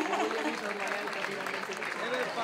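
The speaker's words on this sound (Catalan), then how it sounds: "un aplaudiment per Gertrudis!" A crowd at a Festa Major Sunday colour dinner applauds for Gertrudis, a dense and steady burst of clapping with voices mixed in.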